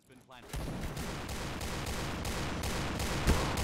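Rapid gunfire in the Point Blank shooter video game, dense bursts of shots firing continuously and loudly after a brief quiet start, with one heavier impact near the end.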